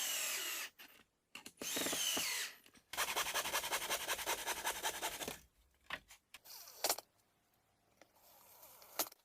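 Power drill boring into furniture board with a confirmat drill bit, several close bursts of whirring drilling separated by short pauses, with a longer sustained run in the middle.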